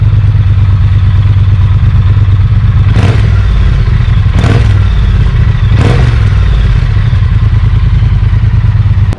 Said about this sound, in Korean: 머플러 또한 BC, 그러니까 브리티시 커스텀으로 튜닝이 돼 있어서